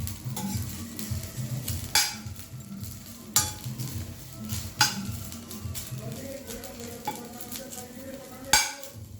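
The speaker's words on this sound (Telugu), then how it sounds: "ఇట్లా ఆయిల్లో వేసేసి వేయగానే కొంచెం మెత్తబడిపోద్ది" Gongura leaves fry in oil with a soft sizzle under repeated stirring and sharp metallic taps of a spoon against the pan, close by and fairly quiet.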